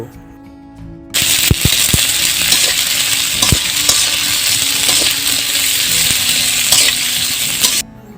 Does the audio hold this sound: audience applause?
no